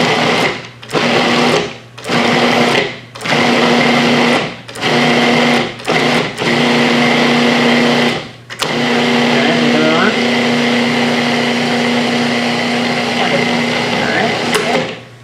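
A kitchen food processor pulsed in short on-off bursts, about seven quick loud whirs followed by one longer continuous run, motor hum steady and close.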